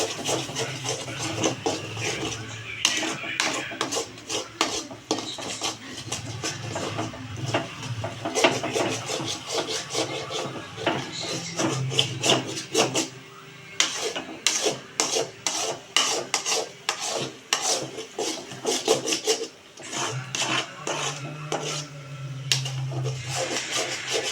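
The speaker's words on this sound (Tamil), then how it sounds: "வந்து லோ ஃப்ளேமில் வச்சு கொஞ்ச நேரம் பீட் பண்ணுங்க." Eggs beaten in a pan over a low flame for egg podimas, a steady scraping, rasping stir of utensil against the pan with irregular rhythmic strokes, close and continuous.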